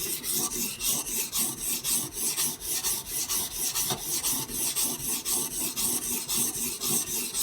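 A Benchmade Bushcrafter 162 knife blade is drawn steadily across a Hapstone sharpening stone, giving a continuous rhythmic rasping of back-and-forth strokes, close and even, with no voices.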